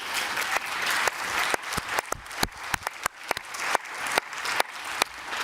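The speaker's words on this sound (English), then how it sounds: "you can hear it on the applause that everybody agrees on that" Members of the Council of Europe parliamentary assembly applaud in the chamber after a speech, with scattered crisp handclaps over a murmuring clapping bed, moderately close and without speech.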